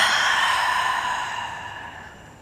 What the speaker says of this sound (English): Big inhale through the nose, exhale through the mouth